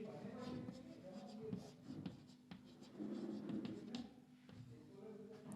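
Chalk or marker writes on a board during a science lesson, with continuous scratchy strokes and taps close by under a teacher's voice.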